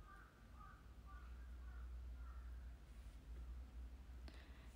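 Crows caw about four times in a row, faint and distant, over a low steady hum, followed by a brief click.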